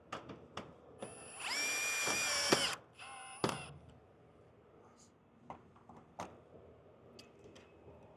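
A power drill drives screws while a solar spotlight is mounted back into its old screw holes, giving a loud whirring burst of about two seconds, then a shorter one, with scattered clicks and handling noise around them.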